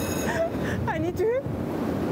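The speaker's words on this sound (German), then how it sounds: "Oh my God, it's so windy!" Strong wind buffets the microphone outdoors at a German nuclear waste site as a steady rushing roar, while a voice exclaims over it with rising and falling cries.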